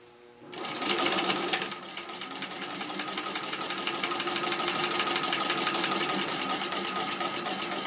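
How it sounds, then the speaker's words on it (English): Singer Model 15-91 sewing machine stitching a patchwork flat cap, a short burst and then a steady, loud, rapid mechanical whir that runs on evenly without voices. "when I sew this up, I'm going to put a pretty large seam allowance on it"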